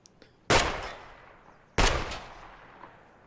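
Two loud shotgun blasts in Escape From Tarkov, each a sharp close report with a trailing echo, roughly a second and a half apart.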